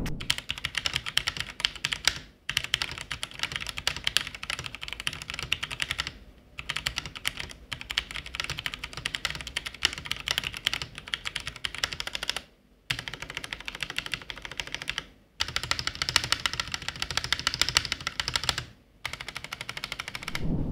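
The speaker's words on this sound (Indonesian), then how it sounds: "mari kita dengerin aja gimana kualitas dari typing feel-nya." Rapid, clacky typing on a budget Zifriend mechanical keyboard, close and steady, with a few brief pauses between bursts of keystrokes.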